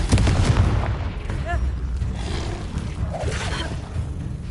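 Confringo fire-blast spell in a Harry Potter video game, a loud booming burst at the start that fades into rumbling crackle amid game effects.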